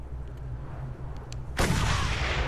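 Sniper gunfire in the video game Mad Max: a low rumbling bed of engine and ambient noise, then at about the midpoint a sudden loud blast that stays full and roaring to the end, with no talk.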